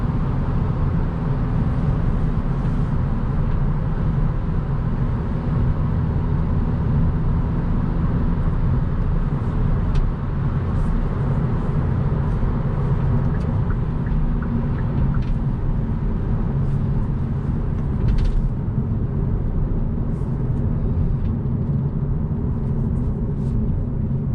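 Cabin rumble of a 2021 Hyundai Elantra N Line with six-speed manual as it drives through a turn, a steady low engine and road drone held at even loudness throughout, no talking.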